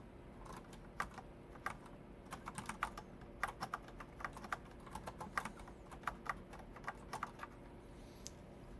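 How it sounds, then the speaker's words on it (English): Steady bursts of keystrokes on a normal computer keyboard while coding in Python, close and fairly quiet, with irregular clicky taps and short pauses and no talking. "I was typing on a normal keyboard for Olive today."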